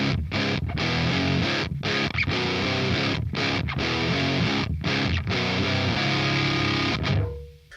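Heavily distorted nu metal electric guitar on a basic Amped Dual amplifier preset, loud chugging riffs with short gaps between stabs, played continuously and alone before cutting off near the end.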